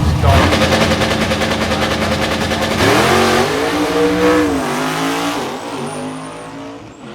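A Ford Mustang drag car at Hot Rod Drag Week roars at full throttle with a harsh, rattling exhaust, then shifts gears and keeps pulling as the engine note rises and fades away.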